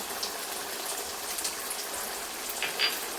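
Ghee going into a hot pan of vegetables (potato, pumpkin and chickpeas) gives a steady, fairly quiet sizzle and hiss that holds without a break, with faint crackles, and no voices.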